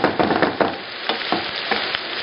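Rainbow vegetables and tofu stir-frying in a pan make a loud, close, continuous sizzle, with bursts of stirring and scraping across the whole stretch.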